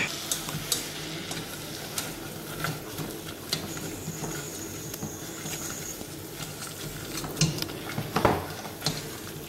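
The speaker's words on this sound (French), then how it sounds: "Et on remue." A spoon scrapes and stirs flour into melted butter in a pan for lasagne, with soft rhythmic scraping, a faint sizzle and occasional clinks of utensil against metal, no talking.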